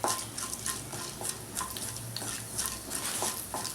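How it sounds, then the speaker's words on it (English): Mustard seeds, jeera and urad dal are stirred as they fry in a pan for sago upma, giving a steady close sizzle with repeated light scraping strokes of the spoon. "and stir it a little."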